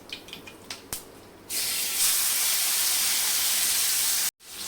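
Tomatoes dropped into hot oil with popped mustard seeds and asafoetida set off a sudden loud, sustained hissing sizzle after a few soft clinks, running steadily until a brief cut near the end.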